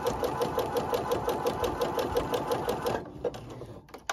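Domestic sewing machine stitching with a three cord gathering foot, fast steady rhythmic needle chatter at close range, stopping abruptly near the end.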